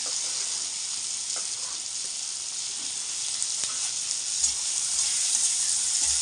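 Capsicum, onion and green chillies fry in butter for pav bhaji, making a loud, dense, continuous hissing sizzle close up with faint stirring taps; no speech.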